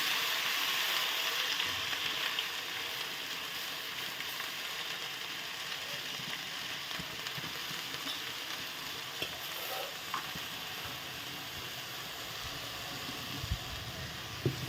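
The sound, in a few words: jute leaves (pat shak) frying in a pan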